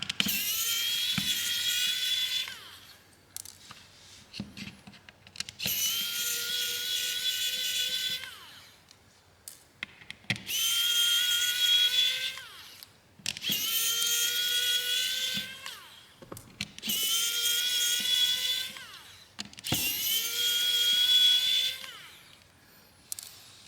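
A small electric screwdriver backs screws out of a Vortex J24 phone during a teardown, whining in six or seven sustained runs with quiet gaps between them.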